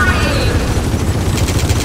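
In Gears of War 4, dense gunfire and a rocket explosion merge into a loud, sustained barrage. Rapid machine-gun bursts run throughout with heavy booming underneath, close and overwhelming.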